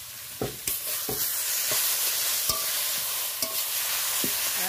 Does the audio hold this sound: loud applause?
no